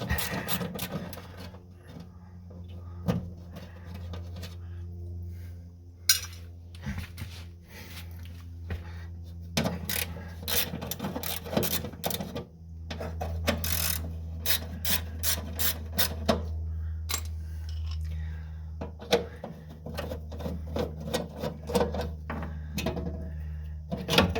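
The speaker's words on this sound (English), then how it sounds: "it's easier to get with the ratchet" A ratchet wrench works bolts loose on a 1963 Corvair engine, giving close, uneven bursts of rasping clicks and scrapes over a low steady hum, with no talking.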